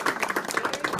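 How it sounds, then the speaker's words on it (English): Brief burst of scattered applause, a handful of people clapping quickly and unevenly at close range. "Recruits, join me in a round of applause"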